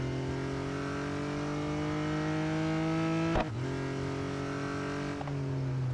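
A race car engine in the Real Racing 3 video game drones at high, steady revs with a sustained whine, briefly dipping during a gear change midway before climbing again, loud and continuous.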